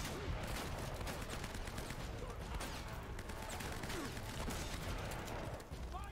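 Gunfire rattles through a firefight in the video game Uncharted: Drake's Fortune, with dense, overlapping bursts of shots and impacts continuing throughout at a fairly low overall level.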